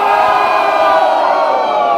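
A crowd at a rap battle cheers and shouts in one loud, continuous roar of many voices, with no gaps across the whole stretch.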